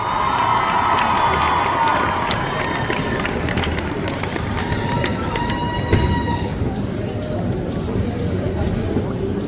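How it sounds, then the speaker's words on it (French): Crowd cheering and applauding at a cosplay contest parade at Japan Tours Festival 2025, a loud continuous wash of voices and claps filling the whole stretch, with shouts and whistles standing out early on. "Caitlyn, Vi et Jinx, interprétés par Malia, Azariel et Hikarin-chan, qu'on applaudit bien fort."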